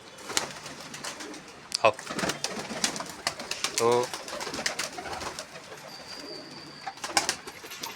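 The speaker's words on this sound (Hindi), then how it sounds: "अभी तो बहुत ही थोड़े से कबूतर लगाए हुए हैं" Pigeons coo in a few soft, throaty rolling bursts close by, mixed with wing flutters and scuffling, while someone speaks briefly over them.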